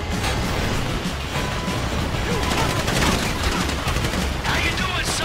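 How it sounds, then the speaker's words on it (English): Dense, loud gunfire fills GTA V, with rapid overlapping bursts like a firefight against a private army. A voice can be heard faintly beneath the shooting. "You hear that gunfire?"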